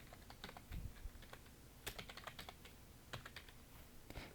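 Keys tap on a computer keyboard, including Shift and Enter, in a quiet run of light, irregular clicks with a few sharper strokes close by.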